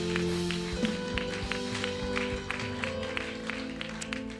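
Church congregation at a worship service applauding and cheering for God, a steady patter of clapping with some rhythmic taps, moderately close, over a sustained musical background.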